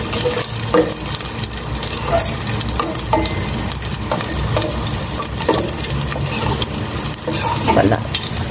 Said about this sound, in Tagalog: Lagay ko na itong bawang gisa ko.